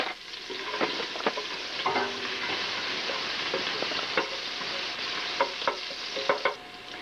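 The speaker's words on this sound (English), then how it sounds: "you brown the onion with the garlic" Onion and garlic browning in a pan for meatballs, a continuous close sizzle with occasional scrapes and taps of a utensil stirring through it.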